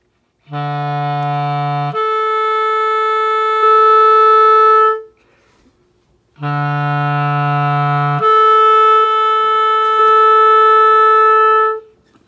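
A clarinet plays a low held E, then opens the register key to jump to a higher sustained B. The pair repeats after a short pause, loud and clear.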